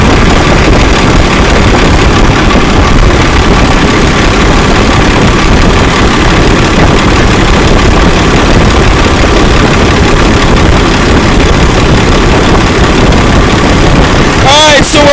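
Hydraulic pump running under back pressure during a flow test near 1,000 PSI, a loud, steady close machine drone with a constant hum that continues without break.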